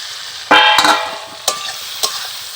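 Fried potatoes with ginger-garlic paste are stirred in a pan, giving a few sharp metallic clanks and scrapes of the utensil over a soft background, close by with no talking.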